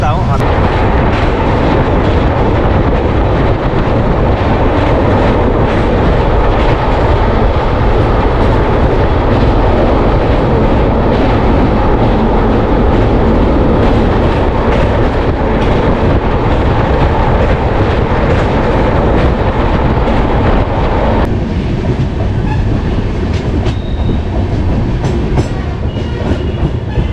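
The Poorva Express passenger train runs along the rails in a loud, continuous roar of wheels and rattling carriages, heard close from on board with constant rumbling and clatter for the whole stretch.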